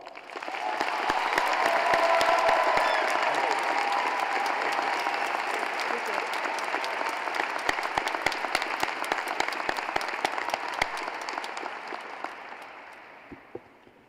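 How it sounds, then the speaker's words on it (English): A large graduation audience at a high school ceremony gives a long, loud round of applause with sharp individual claps and crowd murmur, swelling early and tapering off at the end. "If our community would like to give Mr. Joseph a retirement round of applause."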